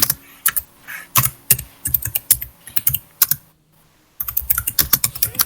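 Fast, forceful typing hammers a computer keyboard in hard bursts of clustered keystrokes, with a short silent pause partway through before the rapid clatter resumes up close.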